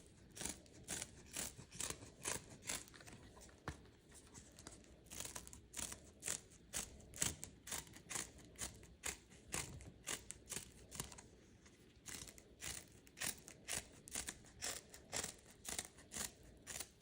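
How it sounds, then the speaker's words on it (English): Scissors snip through table tennis rubber around the handle of a Donic Persson blade with Baracuda rubber, a close run of crisp, crunchy cuts repeating in quick, uneven bursts with brief pauses, no talking. "You gotta first get your scissors cut in there enough to get around the handle."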